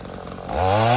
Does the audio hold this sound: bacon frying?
no